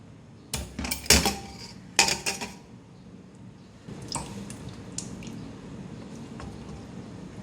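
Metal clanks and rattles as the lid of a pressure cooker of cooked beef is unlocked and lifted after the pressure is released, with a few sharp knocks early on, then quieter shuffling and faint liquid sounds.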